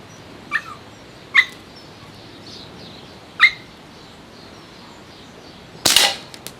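A Crosman M4-177 multi-pump air gun: a few light, sharp clicks spaced apart, then one loud, crisp crack of the shot near the end, close up with no talking.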